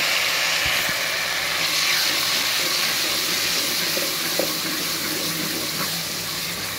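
Onions, tomato, garlic, ginger and green chili fry in a pan with a close, steady broadband hiss and a few faint clinks, and no one speaks.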